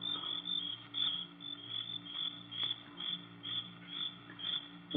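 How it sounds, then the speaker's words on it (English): Crickets chirp continuously in a pulsing, high-pitched chorus at night, steady and moderately faint, with no voices over them, as heard in an old time radio drama. "there wasn't a sound except the crickets, shrilling so loudly the noise seemed to beat inside my brain"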